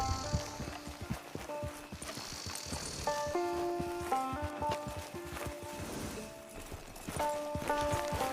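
A horse walking in Red Dead Redemption 2, steady clip-clop of hooves on firm ground under a background of layered music tones, with a brief whinny-like burst.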